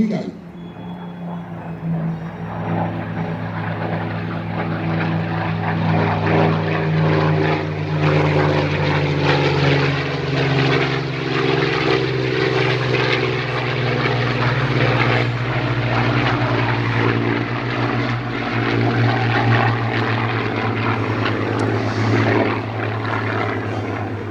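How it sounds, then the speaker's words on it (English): A Spitfire and a Hurricane of the Battle of Britain Memorial Flight sweep past at full speed at the Weston Park airshow, their propeller engines swelling to a loud, sustained roar and then fading slightly at the end. "Last chance, the Spitfire and the Hurricane, full speed, here we go."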